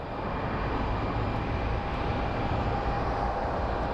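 An airliner lands at Phoenix Sky Harbor airport, a loud, steady roar of jet engines and rushing air holding even throughout without pause.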